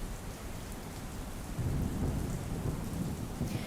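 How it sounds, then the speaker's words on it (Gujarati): Heavy rain pours steadily on surfaces while deep thunder rumbles through the downpour, the storm growing louder and fuller partway through. "બીજી તરફ ગીર સોમનાથમાં પણ ધોધમાર વરસાદ વરસ્યો છે."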